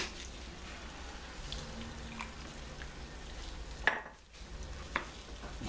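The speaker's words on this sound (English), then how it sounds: "I'll be mixing this. So we just keep on stirring" Shiitake mushroom and tomato risotto simmering and being stirred in a pan on a moderate flame, giving a steady soft sizzle with occasional scraping knocks of the spoon and one louder clatter midway.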